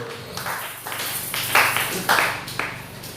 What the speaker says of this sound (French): Est-ce que quelqu'un peut applaudir très fort pour la gloire du Seigneur?